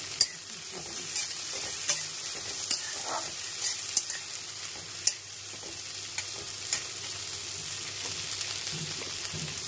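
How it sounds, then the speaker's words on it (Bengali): Yardlong beans frying with turmeric and salt in a pan, a steady close sizzle broken by the clicks and scrapes of stirring, with no talk. "এটার মধ্যে কোনো ফোড়ন না, লাগে না, খালি হলুদ দিয়ে নুন দিয়ে ভাজা"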